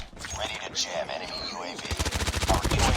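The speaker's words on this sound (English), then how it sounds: "They are shooting down my UAVs like crazy." Rapid bursts of automatic gunfire in the Call of Duty Mobile shooter, dense rattling volleys building toward the end, with a voice talking over part of it.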